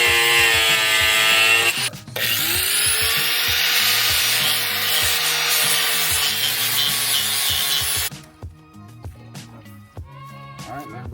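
Angle grinder fitted with a flap wheel working rusty metal, a loud continuous abrasive whine and grinding that stops abruptly after about eight seconds, leaving quieter clicks and handling noises.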